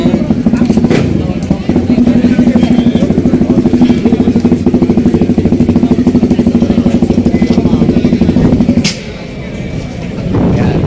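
A Suzuki Raider motorcycle engine revs steadily and loud at close range at a motorcycle festival test drive, holding a droning pitch before easing off near the end.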